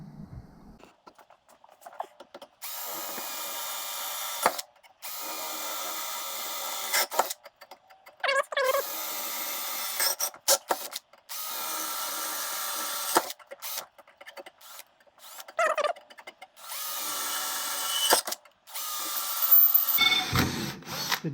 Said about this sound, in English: So I'll cut this end here, and then we'll trim it after it's welded in.